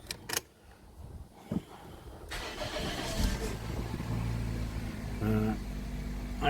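A 1999 Toyota Corolla's engine cranks and starts after the key is turned, with a couple of sharp clicks and key jangles first, then a rising, steady mid-pitched idle rumble close by, no talk.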